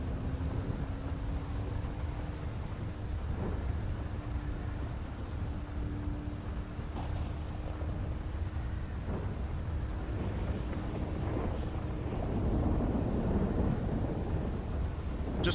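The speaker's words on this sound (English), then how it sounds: "we got a storm rolling in" A thunderstorm rolls in with low, continuous thunder rumbling under steady rain, loud and unbroken throughout, with a faint tonal hum running underneath.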